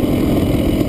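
A GasGas EC300 two-stroke dirt bike with an auto-clutch sits idling in gear around 1200 RPM, a steady close, loud low burble with no change in pace through the whole moment.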